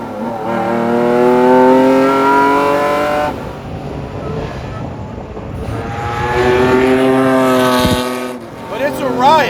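A Lamborghini Diablo SVR, the factory race car, roars while being driven, its raw engine note rising through revs, easing off, then climbing again in loud, harmonic surges.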